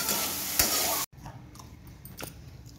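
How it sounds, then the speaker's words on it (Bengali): Onion and tomato fry and are stirred in a pan in a home kitchen, a loud close sizzle that cuts off abruptly, followed by quieter scraping and clinking stirs. "এই যে রান্না হচ্ছে পেঁয়াজ আর টমেটো দেওয়া হয়ে গেছে"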